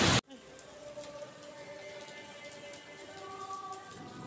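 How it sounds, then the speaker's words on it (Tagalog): Heavy rain falls outside Baclaran Church in Parañaque, a steady moderate patter and hiss that follows a brief loud burst at the start. "Ayan guys, sobrang ulan."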